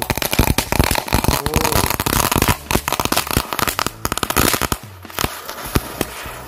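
Mercon telur dino firecrackers burst inside a drink can, a dense run of sharp crackling pops and bangs packed closely together, loud and near, thinning to scattered snaps and a few whistling fizzes near the end.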